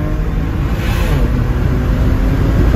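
A Stage 1 tuned BMW 335i of about 450 hp roars at full throttle, a dense, steady engine drone close to the car with no gaps.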